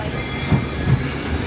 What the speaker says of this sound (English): As we pull into the station